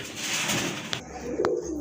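Pigeons in a loft, a pair feeding their baby, give a short, soft burst of low cooing up close, with a couple of brief clicks and rustles, and no one talking.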